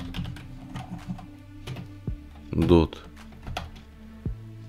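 Computer keyboard clicks of someone typing code, irregular clusters of key taps close up, with someone talking over the typing.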